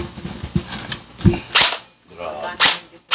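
Airsoft or toy gun fired in rapid bursts, sharp cracking pops in quick clusters separated by brief pauses, close and loud, with talk around it.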